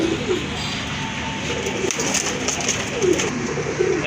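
Deep, rounded cooing from red Danish pigeons repeats several times over a steady background of softer bird chatter, fairly close and continuous throughout.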